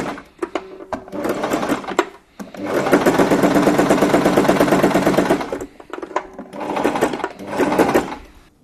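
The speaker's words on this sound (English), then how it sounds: "we are going to sew down each side, leaving about a ½ centimetre seam allowance" A sewing machine stitches the side seams of a fabric drawstring bag, with short backstitching bursts at the start and end around a steady, rapid mechanical whirr lasting several seconds, close and loud.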